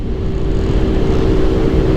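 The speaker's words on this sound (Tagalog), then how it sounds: "Ang bilis na ng motor ko, pababa." A motorcycle speeding downhill on a moto camping ride in Taiwan, its engine a steady close drone blended with rushing wind noise, loud and continuous with no talk.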